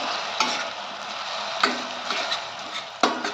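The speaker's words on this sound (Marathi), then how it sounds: "आता हा पाक करायला ढवळत राहायचं आहे मंद गॅसवरती" Jaggery syrup stirred over a low gas flame, a steady soft sizzling bubble with a few sharp spoon-on-pan scrapes and taps at irregular intervals.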